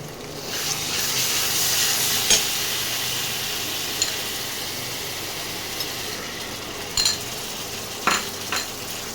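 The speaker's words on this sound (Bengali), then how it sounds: "এবারে ভালো করে মশলাটাকে কষাতে হবে।" Spice paste for mutton kosha fries in a pan while a utensil stirs it, making a steady near sizzle with occasional sharp scrapes and clinks against the metal.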